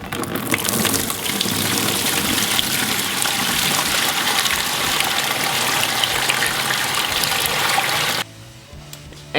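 About three gallons of water poured into a tub for a rust-removing acid bath: a loud, continuous gushing splash for roughly eight seconds, then stopping abruptly.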